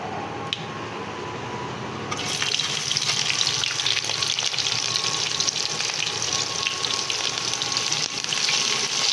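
Chopped onions fry in a pan of oil seasoned with cinnamon, cumin seeds, a bay leaf and cardamom, starting a soft crackle then settling into a steady, close sizzle for the rest of the clip.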